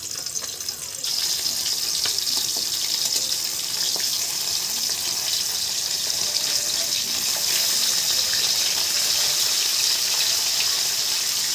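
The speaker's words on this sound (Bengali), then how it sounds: "তাই মাছগুলো হালকা করে ভেজে নেব।" Hilsa fish pieces frying lightly in hot oil, a continuous dense bright sizzle that stays loud and steady throughout, with a slight lift after the first second.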